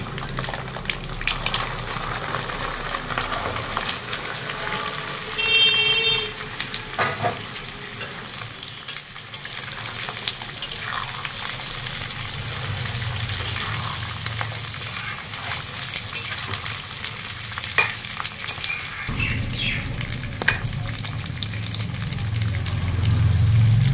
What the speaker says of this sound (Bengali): তেলে আমি কিছুক্ষণ রসুন ভেজে নেব।